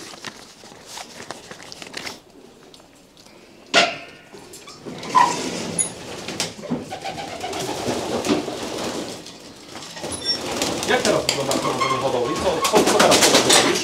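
Racing pigeons coo inside a loft in Biłgoraj, Poland, with soft repeated calls close by amid footsteps, rustling and wing movement; people talk intermittently over the birds.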